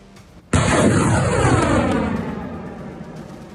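A multiple rocket launcher fires: a loud, sudden blast erupts after a brief quiet, followed by a sustained roaring whoosh that slowly fades.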